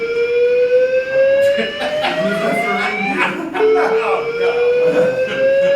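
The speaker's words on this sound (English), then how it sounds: "It's a fire alarm." A building's fire alarm sounds continuously during a convention panel session, a loud steady electronic tone holding throughout while people talk over it.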